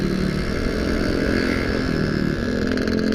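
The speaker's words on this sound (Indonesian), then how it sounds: "kota Tangerang lumayan ramai dengan knalpot brongnya yang keren. Ini RX Special." Yamaha RX Special two-stroke motorcycle with a loud aftermarket exhaust on a busy Tangerang city street, a steady, close, buzzing engine drone filling the whole moment.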